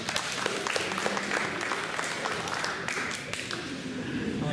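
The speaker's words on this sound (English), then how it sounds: "Let's give another round of applause." A post-prom event audience breaks into sustained applause, a dense wash of clapping held at a steady level throughout, with voices mixed in.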